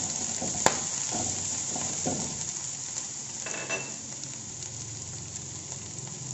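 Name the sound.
green chillies sizzling in hot oil with curry leaves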